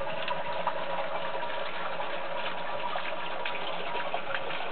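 Cold water flowing steadily in a continuous, even rush with no breaks, close and fairly loud, and no voices heard over it.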